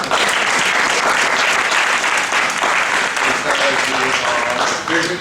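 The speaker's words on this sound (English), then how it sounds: "a round of applause to all of them" An audience at a Caribbean American heritage celebration applauding, dense loud sustained clapping from a large crowd lasting throughout, with voices faintly mixed in.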